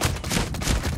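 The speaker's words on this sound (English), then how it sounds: "I'll pop all that gunfire from the trailers." Rapid, loud gunfire from the video game Ghost Recon Breakpoint, a dense burst of overlapping shots filling the whole second with sharp, broadband cracks.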